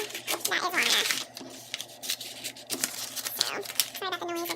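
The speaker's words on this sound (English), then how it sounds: "sorry about the noise of the paper" Paper being handled and cut while making a packaging-paper gift box, crinkling and snipping sounds in uneven bursts, close and moderately loud, with brief speech-like sounds between.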